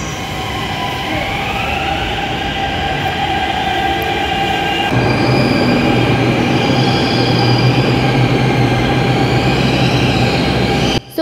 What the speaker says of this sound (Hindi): गाइज फाइनली मेरी भी मेट्रो आ गई शहीद स्थल वाली